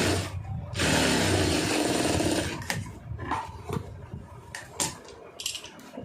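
A sewing machine stitches a lined blouse with a loud, steady mechanical whir for about two seconds, then falls to short clattering bursts and clicks as the fabric is adjusted.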